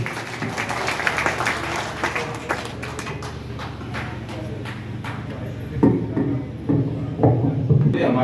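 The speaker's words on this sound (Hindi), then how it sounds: "एक बार जोरदार तालियों के साथ आवाज दें" An audience claps at a birthday celebration in an old age home, a quiet, scattered patter of applause under continuous speech, with louder bursts of claps near the end.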